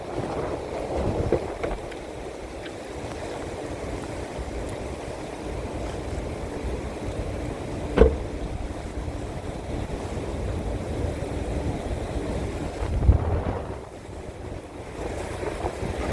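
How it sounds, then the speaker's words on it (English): Wind buffets the microphone with a constant low rumble and gusty roar, with a couple of sharp bumps and faint water sounds in the background. "So windy."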